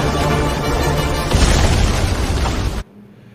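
A sustained, loud roaring blast of broadband noise from a bomb explosion in a film scene, swelling and rumbling for nearly three seconds, then cutting off abruptly into quiet.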